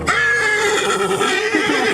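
A Breton draught horse gives a loud, close whinny that carries with a wavering pitch for about two seconds at a horse show.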